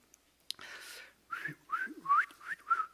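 A person whistles a short tune of quick chirpy notes that rise and fall, faint and close, after a few soft clicks and breaths, whistling to call a dog at feeding time.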